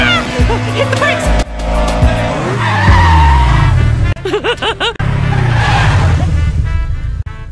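A cartoon car from SpongeBob brakes hard with long, loud tire squeals and skids, repeated several times amid frantic voices and zany effects.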